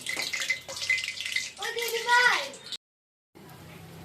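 Hot water pours and splashes into luchi dough for nearly three seconds, with a brief voiced sound near the end, then stops; a faint rustle returns after a short silence.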